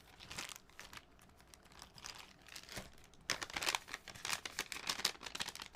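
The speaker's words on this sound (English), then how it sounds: "I guess I'll flatten these bags." Plastic bags crinkle and crunch as they are crumpled and pressed flat, a steady run of close, dry rustles that grow louder and busier partway through, with no talking.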